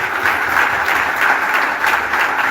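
An audience at an international conference workshop on healing applauds in a dense, continuous, loud wash of clapping that holds steady from start to finish.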